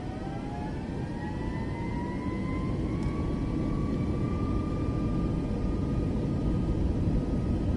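An airliner's jet engines spool up for takeoff from runway 34 left in Microsoft Flight Simulator 2024, a loud continuous roar with a rising whine that holds steady throughout, no voices.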